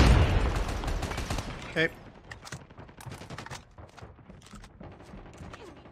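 An AK117 assault rifle in a video game fires a loud, dense burst at the start, followed by scattered quieter shots and game clatter, with a brief spoken word partway through.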